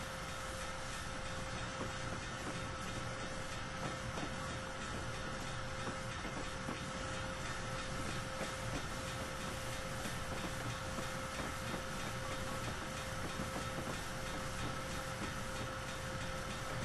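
A locomotive on the Monongahela Railway in Train Simulator rolls slowly through a rail yard near a bridge. A steady, continuous engine drone and rail rumble carries a constant tonal hum throughout, with no talking.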